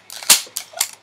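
A cap gun used as a starting gun fires three sharp, loud cracks in quick succession, the first the strongest, close and alone.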